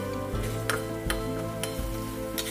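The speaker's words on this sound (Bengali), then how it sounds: "ভাজা আলুটাকে এর সঙ্গে এবার মিক্স করলাম" Fried potatoes stirred into a spice paste in a pan for chicken aloo curry, a soft continuous sizzle with regular scraping strokes and light knocks of the spoon, close, with no talk.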